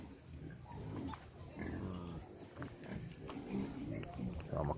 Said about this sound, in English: Okay, so here's the pigs.